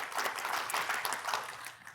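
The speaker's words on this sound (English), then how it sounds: "Can you all give him a round of applause as he exits?" An audience claps for a departing speaker at a tech-planning talk, a steady, dense wash of applause that holds for about two seconds and fades slightly at the end.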